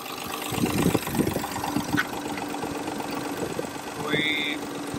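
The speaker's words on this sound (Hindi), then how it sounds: "बड़ा बेहतरीन साउंड है इंजन का" A Daihatsu Cuore car engine idles steadily at close range after an engine upgrade, a low smooth hum with a few brief clicks and a short voice in the background.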